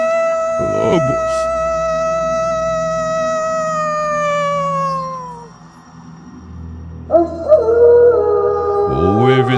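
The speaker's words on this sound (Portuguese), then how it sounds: "Lobos." Wolves howl on a full-moon night in a dubbed Western scene. Long, falling howls ring out loud and close over a low rumbling background, and a second rising cry comes near the end.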